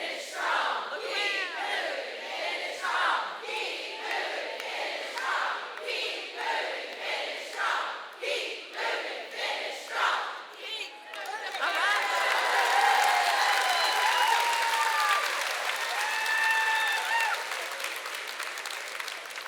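About 1,500 women cheering and clapping: rhythmic group chanting gives way to a loud, sustained burst of applause with whoops and shouts filling the room.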